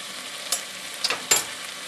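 Short ribs for an Asian braise sizzle in a hot pan over medium-high heat, a steady hiss broken by a few sharper crackles and pops as the meat is stirred.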